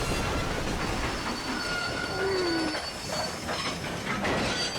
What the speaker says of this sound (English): You have to go out there and stop that train before it crosses the bridge.